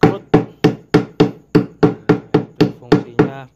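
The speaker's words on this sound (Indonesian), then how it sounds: "Itu fungsinya palu." A hammer striking a wooden screen-printing frame while stretching mesh fabric, eleven sharp loud knocks at a steady, brisk rhythm, close up with no talk.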